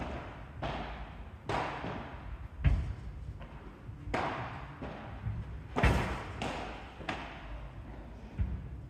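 Padel ball thudding against the wire fence grille of a court during a match, several dull slams and taps spread over nine seconds amid court ambience, with one or two louder impacts standing out.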